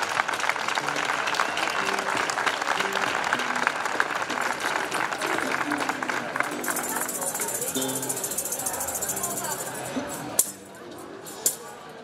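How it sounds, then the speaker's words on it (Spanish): An audience at a Spanish tuna performance in Lopera, Jaén claps in sustained, dense applause that carries on steadily before thinning and ending in a few isolated claps and knocks. "un aplauso para ellos, por favor"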